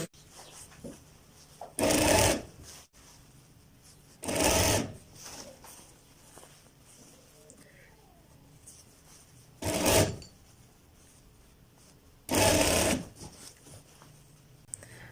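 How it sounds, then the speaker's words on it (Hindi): Sewing machine stitching the sleeves onto a ladies' suit, running in four short bursts of about a second each, spaced apart, with quiet pauses and faint handling of fabric between. "इस तरह दोस्तों यहाँ से आप अपने बाजुओं को स्टार्ट करें और बिल्कुल हल्के हाथ पे आपने स्टिचिंग करनी है।"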